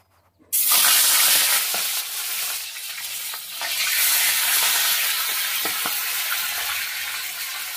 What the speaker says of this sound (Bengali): এবার হলুদ লবণ মাখানো ইলিশ মাছের মাথাটা ভেজে নেব